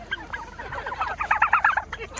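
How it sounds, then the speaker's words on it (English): A Bourbon Red turkey gobbling, a rapid burbling run of calls rising in intensity, nearby over faint background noise on a farm. "That's our bourbon red turkey."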